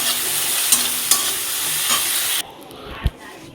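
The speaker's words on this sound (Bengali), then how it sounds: "নুন হলুদ দিয়ে দিলাম, দিয়ে মাছটা ভালো করে ভেজে নেব।" Fish seasoned with salt and turmeric fries in hot oil with a loud, close, steady sizzle and a few crackles. The sizzle cuts off abruptly after about two and a half seconds, followed by a single dull thump.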